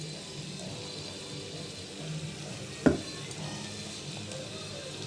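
Chicken marinated in curry leaf powder fries in oil with a steady, close sizzle, interrupted once midway by a single sharp clink of a utensil against the pan.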